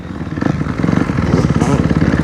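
Dirt bike engine on a Texas motocross track, a steady loud mid-pitched drone with rhythmic pulsing and revving throughout, close and continuous.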